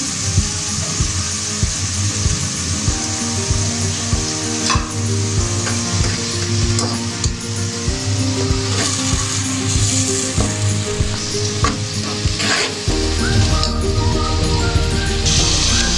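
Continuous sizzling of onions frying in a pan, punctuated by stirring scrapes and clinks, loud and close throughout with no talking.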